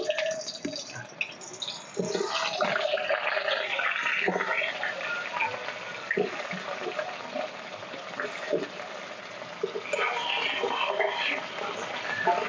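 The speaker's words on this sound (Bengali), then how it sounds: "একই তেলে আমি আলুগুলো ভেজে নেবো লাল লাল করে" Potatoes frying in hot oil for a Bengali-style aar fish head curry, a steady close sizzle and crackle running without break from start to finish.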